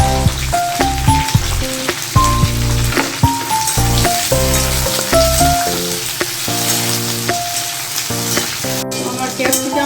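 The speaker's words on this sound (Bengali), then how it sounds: "পেঁয়াজগুলো একটু দিয়ে দিচ্ছি, এগুলোকে" Onions lightly frying in oil, a loud close sizzle with crackling pops, while a few instrumental music notes play over it, no talking.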